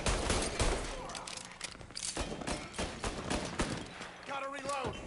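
Rapid bursts of gunfire from Mafia: Definitive Edition on PS5 crack and thud in close, uneven volleys, with a voice speaking over the shooting near the end.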